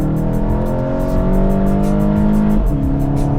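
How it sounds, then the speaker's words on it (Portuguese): A Volkswagen Golf GTI Mk7 engine drones steadily inside the car, then briefly dips in pitch as it shifts into third gear before pulling again, with loud, constant cabin engine noise throughout. "Presta atenção que eu vou trocar para a terceira marcha, vocês vão ver o buraquinho que tem."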